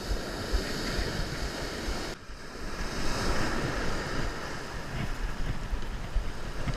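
Wind and crashing surf at an ocean beach, a steady broad roar of waves with gusty buffeting against the microphone, loud and continuous.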